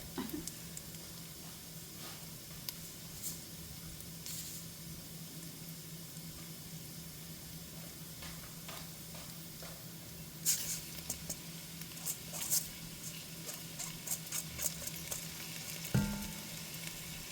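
Two cups of jasmine rice hitting a hot pot for a one-pot chicken and rice dish, steady close sizzling with scraping stir strokes and scattered ticks, one louder clatter near the end, no talk.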